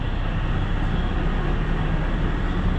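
Steady low rumble and broadband rattle of a moving train heard from inside a carriage, constant and fairly loud throughout with no talking.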